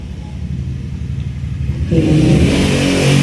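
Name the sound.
motor tricycle engine outside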